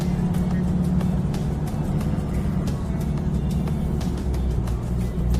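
A car driving along a road, its steady engine and tire rumble holding constant and close throughout, with some road noise.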